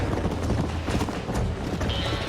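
Horse hooves clip-clop in Red Dead Redemption 2, a quick, uneven run of thuds heard fairly close under game noise.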